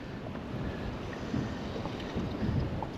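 Strong wind gusts buffet the microphone while fishing from a boat on open water, a constant low rumbling roar that swells briefly in a few louder gusts, with no voices.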